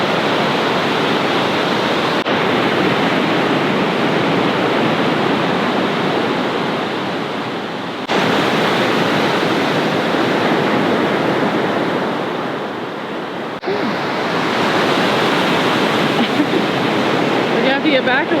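Ocean surf surges in along a coast with rock arches, rolling in as loud, broad washes that swell and fade in roughly three long waves, with wind buffeting the microphone nearby.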